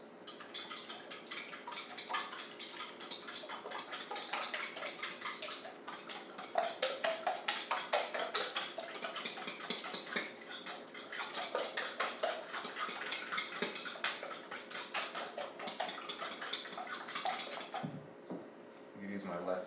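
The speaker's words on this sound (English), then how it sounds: "What you're supposed to do is whisk everything together like you would with a pancake." Protein pancake batter being whisked in a bowl, a rapid continuous clatter of the whisk against the bowl's sides running steadily for nearly twenty seconds before stopping briefly near the end.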